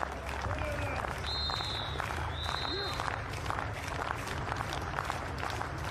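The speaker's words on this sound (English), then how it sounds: "So applause for Roos." Steady applause from a crowd at the Folksam Grand Prix athletics meet in Sollentuna, Sweden, fills the background, with a couple of whistle-like tones and a commentator talking over it.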